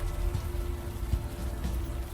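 Steady rain falling in the point-and-click adventure game Unavowed, a continuous soft patter with a low rumble beneath, even and unbroken, with no talking.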